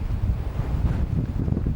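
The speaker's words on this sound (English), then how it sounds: "and it's very windy." Strong wind at Cable Beach, Broome, near Gantheaume Point, buffeting the microphone with a loud, steady low roar and rumbling gusts, with no voices.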